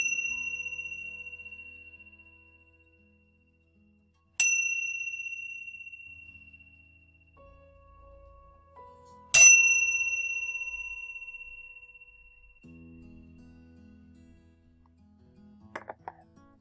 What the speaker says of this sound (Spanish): vamos a simplemente seguir con nuestros oídos el ruido de las campanas